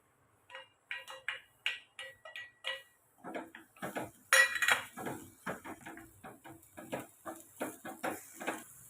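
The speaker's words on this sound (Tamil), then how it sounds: "இப்போ எண்ணெய் காஞ்சது நம்ம அரைச்ச பேஸ்ட்டை வதக்கி எடுத்துக்கோங்க ஒரு 2 நிமிஷம்" Repeated scraping and clinking of a spoon stirring a ground paste in oil in a pan, rhythmic strokes growing busier with a soft frying hiss underneath.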